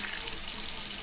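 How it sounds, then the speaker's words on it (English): A faucet runs steadily in a horror video game, a constant close hissing rush of water with no breaks, filling the short moment alone. "I don't even have the cup under the faucet,"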